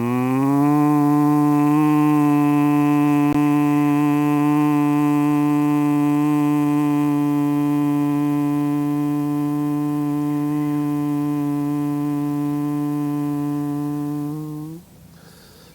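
A long, steady humming exhale of Bhramari pranayama, the voice imitating a buzzing bee, held loud and even for about fourteen seconds before trailing off into quiet breath.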